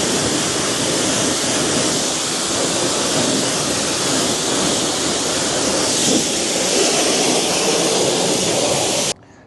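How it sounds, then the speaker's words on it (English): Steady, loud rush of water spraying onto car wheels and tires while rinsing a ceramic-coated vehicle, continuous hiss without pauses until it cuts off near the end. "After that, we'll go ahead and rinse, and that'll be it for the wheels and tires."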